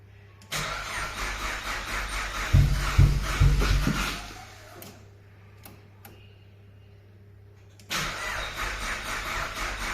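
A Nissan Pulsar GTiR engine cranks repeatedly without firing, a rhythmic starter churn with heavy low thumps, then a pause with faint clicks before cranking resumes, close and loud.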